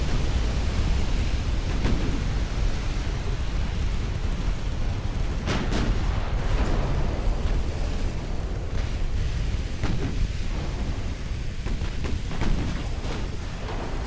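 Battleship gunfire and explosions rumble in the naval video game Ultimate Admiral: Dreadnoughts, a dense continuous roar with several sharper booms breaking through at irregular intervals.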